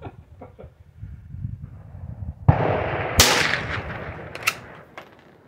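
Small Mosin Nagant-style rifle with a threaded barrel, fired outdoors: a couple of sharp, loud gunshot cracks stand out against wind and handling noise, with a few smaller clicks and bumps between.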